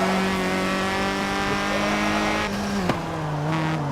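Hot hatch racing car engine in Forza Motorsport 7 gameplay, a steady close droning whine with layered harmonics that holds pitch, then dips sharply near the end as the car brakes or shifts before rising again, with no talk.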